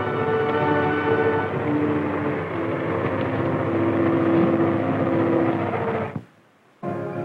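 M-60 tank engine running on a test, a loud steady droning roar with tonal whine that cuts off abruptly near the end, a brief silence, then the engine restarts.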